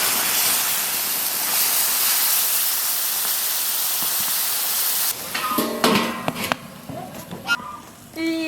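Boiling water poured into buckwheat dough seasoned with salt, Sichuan pepper powder, ginger powder and dark soy sauce, a loud continuous steaming hiss that stops abruptly, followed by clattering and stirring sounds.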